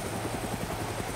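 A news helicopter in the DayZ video game, its rotor thumping steadily under a constant broadband whine, loud and close throughout with no voices.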